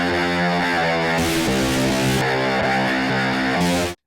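A bass synth from Serum 2 played through a tiny laptop-speaker preset with distortion, a gritty, thin, buzzy riff of repeated notes in a groove, loud and alone, cutting off abruptly at the end.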